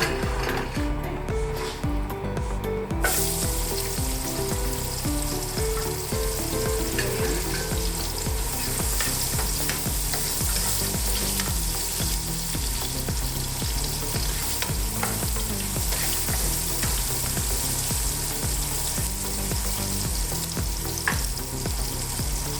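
Mackerel fries in olive oil, giving a dense, continuous sizzle and crackle with occasional stirring scrapes, steady and close throughout, with no talking.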